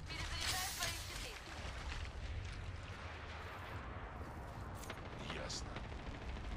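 Rapid gunfire and explosive bursts from a match of the video game Apex Legends, dense and continuous with sharp cracks rising over a loud rumbling battle bed, a voice talking faintly underneath.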